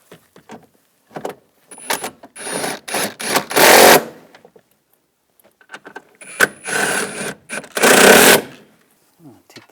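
Bolts on a 2010-2017 Chevrolet Equinox door actuator are tightened in two loud bursts of rapid mechanical rattling, separated by quiet pauses with small clicks and handling noises.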